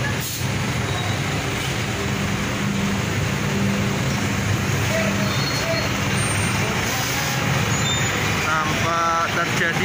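Heavy traffic jam in Sapuro, Pekalongan, with many buses: a constant loud roadway roar of idling and creeping trucks and buses, with hissing air-brake bursts and a horn-like tone near the end, and faint voices in the crowd.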